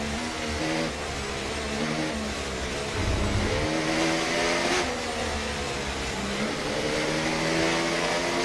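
Formula 1 cars in the F1 24 video game rolling into the pit lane, a steady whining engine drone with shifting revs and a low thump partway through, continuous and fairly close.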